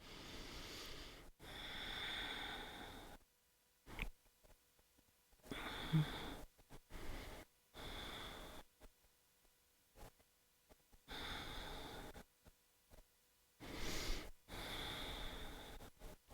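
Slow, deep breaths during a gentle yoga class, long airy inhales and exhales repeated in a steady rhythm with silent pauses between, close and soft, with no talking.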